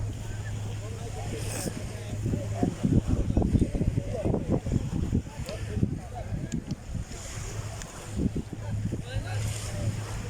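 Strong ocean waves surge and crash repeatedly nearby on the Kuwait City seaside, with wind buffeting the microphone and a voice speaking now and then.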